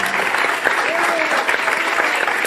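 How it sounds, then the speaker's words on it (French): A TV studio audience claps steadily through the whole stretch, a loud, even burst of applause with a few indistinct voices mixed in. "ils sont habilités à applaudir"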